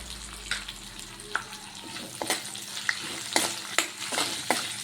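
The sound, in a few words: stirring green chilli, curry leaves, ginger and turmeric frying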